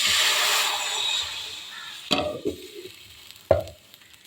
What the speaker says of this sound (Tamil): இப்போ தாளித்து ஊற்றிக்கிறேன்